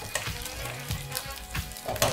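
Food frying in a pan during potato salad preparation, a close, continuous sizzle with crackling bursts and occasional stirring sounds, no speech.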